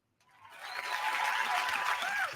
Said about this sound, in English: Little applause.